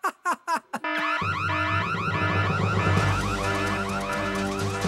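A cartoon security system alarm sounds after a few short bursts, then wails continuously and loudly with warbling, siren-like tones layered over a low hum.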